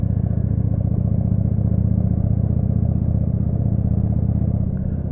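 A chopper motorcycle engine idles steadily while still cold, a continuous low, rumbling drone held close and loud with no break, and no voices over it.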